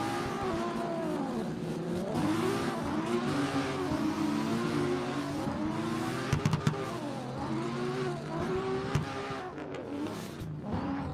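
Simulated drift battle between an S14 and a Mark IV Supra in a racing video game: sustained engine revving with wavering pitch as the cars slide, punctuated by a few brief impact knocks, continuous and fairly loud.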